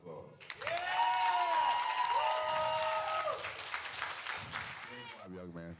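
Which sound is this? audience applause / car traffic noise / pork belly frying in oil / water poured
audience applause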